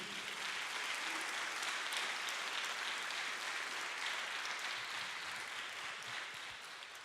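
Church congregation applauding during a service, a sustained wash of many hands clapping at moderate distance that holds steady for about seven seconds before easing slightly.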